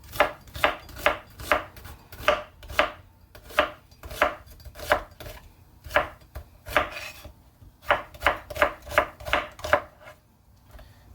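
A chef's knife chops sausage and peppers on a board in quick, steady bursts of sharp close knocks, with short pauses between runs and no voices.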